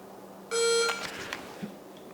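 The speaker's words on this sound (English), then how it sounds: "Wait for the beep." A single bright electronic beep from a rechargeable training gun's shot timer, clean and steady, lasting under half a second against a quiet background, followed by faint handling noise.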